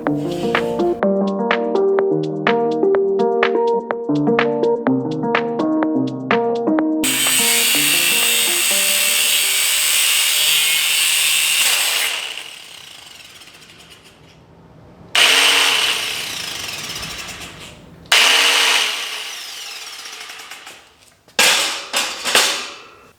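Angle grinder running while a welding cart frame is built from scrap metal, a steady loud high-pitched whine that cuts off, then restarts in short bursts before dying away.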